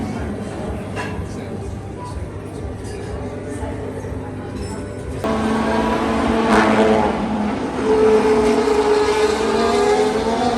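Formula 1 race cars at the Abu Dhabi Grand Prix roar past as a steady engine drone that swells louder midway, heard from a trackside crowd or yacht setting with chatter and voices mixed in.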